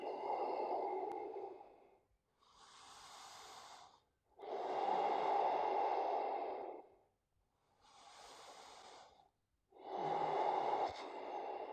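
Yoga practitioner breathing deeply while holding a posture: slow, audible nasal inhales and long rushing exhales, about five breath phases close to the mic, without speech.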